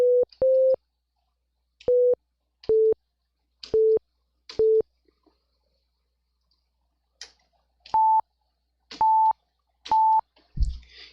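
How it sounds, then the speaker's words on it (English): A Sega Genesis FM synth plays a plain sine-wave tone from a single operator: short, clean beeps repeated in a steady pattern, a lower pitch five times, then a pause, then three higher ones, with near silence between them. "what you're going to hear is a sinusoidal wave, you know, which is your most basic sound wave"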